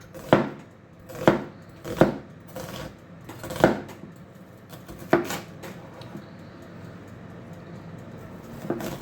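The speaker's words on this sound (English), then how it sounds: "And again, just roughly chop that." Food roughly chopped on a board with a knife for a barbecue bean pasta bake, six sharp, close knife thuds spaced about a second apart with quiet pauses between, no voices.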